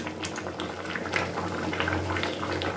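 Dal of lentils at a steady boil in a pot, giving a continuous close bubbling and gurgling with small pops scattered through, fairly even in level and with no voices.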